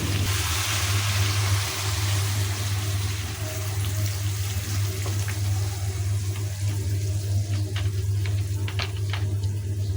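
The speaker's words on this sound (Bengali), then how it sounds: "এখন দিব পরিমাণ মতো একটু ঝোল।" Broth pours into beef and coconut curry cooking in a pot, giving a steady close watery hiss and sizzle that runs throughout, with a few faint clinks and no talk.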